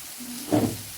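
Chopped ginger for chilli paneer fries in a pan with a soft, steady sizzle and a short louder burst of crackle midway, close and brief.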